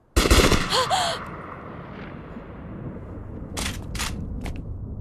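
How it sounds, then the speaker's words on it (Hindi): A volley of gunfire erupts at once after a firing command in a Hindi-dubbed film, a loud burst of shots that quickly fades into a rumbling, ringing tail, followed by a few fainter sharp cracks later on. "फायर!"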